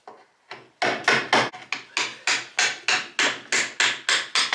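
Old window putty is forced out of a frame with a special scraping tool, a series of about a dozen close, sharp scraping pushes in a steady rhythm, each stroke starting hard and fading quickly.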